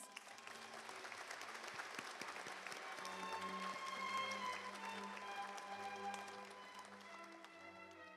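Audience applause fills a university graduation and degree ceremony hall at Kanagawa University as a continuous, faint wash of many hands, with held musical tones sounding beneath.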